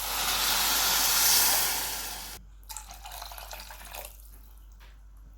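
Water pours steadily into a cooking pan for about two seconds with a broad rushing hiss, then stops, leaving quiet clinks and small movements.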